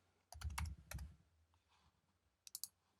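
A few quiet bursts of keystrokes on a computer keyboard, a short cluster of clicks followed by a pause and then two or three more taps, faint and close.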